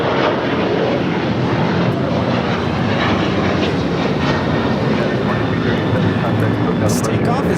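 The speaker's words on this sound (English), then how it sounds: "This takeoff is United Airlines 2237 taking off to Houston Intercontinental on a 737-900ER." A United Airlines Boeing 737-900ER takes off at LAX with a loud, steady engine roar and rumble throughout. A voice speaks over the noise.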